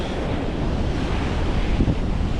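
Ocean surf at the beach in Kitty Hawk, North Carolina, on a red flag day, a continuous heavy rumble of waves mixed with wind buffeting the microphone.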